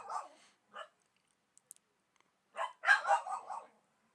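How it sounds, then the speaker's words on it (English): Dogs bark in the background indoors with short bursts of barking: one pair early on, then a busier cluster of several barks near the end. The barking is moderately close but not loud, with quiet gaps between the bursts. "And apologies for the dogs barking in the background."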